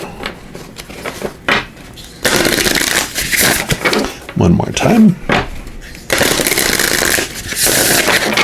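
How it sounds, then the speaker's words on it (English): A deck of tarot cards is shuffled in quick bursts of crisp riffling and flapping, separated by softer handling noises and brief talk. "I'm going to give these a quick shuffle"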